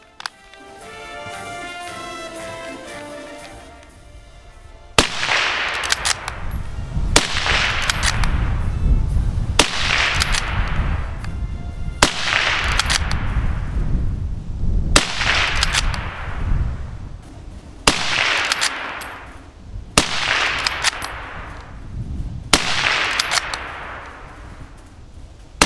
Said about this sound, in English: So there we are, the 10 rounds with the Lee-Enfield.